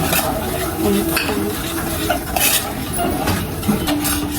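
Continuous stirring and scraping of sabudana with salt in a metal pan, with clinks of a spoon against the vessel, close and fairly loud.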